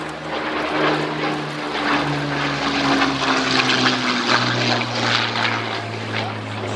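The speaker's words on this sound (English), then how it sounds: "is your actual Battle of Britain hurricane. A lovely thing it is too." A Hawker Hurricane fighter from the Battle of Britain era flies by at an airshow, its piston engine giving a steady loud drone with a slowly shifting pitch as it passes, heard alone without talk.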